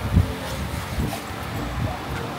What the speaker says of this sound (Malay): Angin kuat lah.